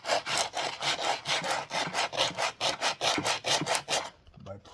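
A big block piston being hand sanded with 100 grit sandpaper, a steady run of about a dozen quick rhythmic back-and-forth rasping strokes, close and fairly loud, ending in a short quieter scuff.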